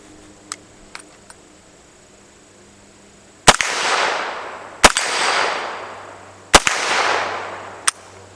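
Pistol shots ring out against steel plates and a silhouette target at an outdoor range: a few faint clicks, then four sharp, loud cracks spaced a second or more apart, three of them followed by a lingering metallic ring, with no talking.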